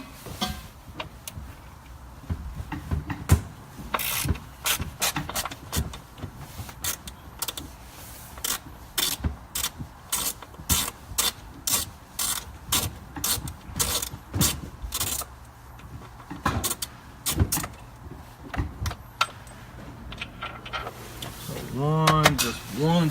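A ratchet works bolts loose while taking the top off a Jeep Wrangler, sounding as repeated sharp clicking bursts in uneven runs, with someone talking in between and over them.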